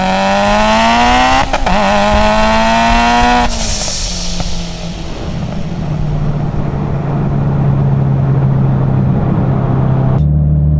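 A Mitsubishi Lancer Evo X pulls hard at full throttle, its engine note climbing loudly through the revs, then a shift and another rising pull before the engine settles into a steady drone and cuts off near the end.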